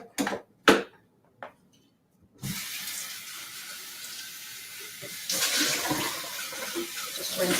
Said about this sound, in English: Rinsing out this jar